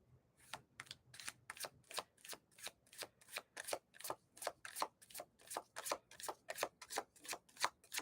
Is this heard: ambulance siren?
no